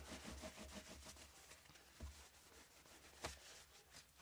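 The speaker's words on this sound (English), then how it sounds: "I also would buff that fret until none of the black marks that are on the rag, till the rag is clean" A rag buffs a guitar fret with a soft, rhythmic rubbing that repeats in quick back-and-forth strokes, quiet and close, with a couple of light knocks.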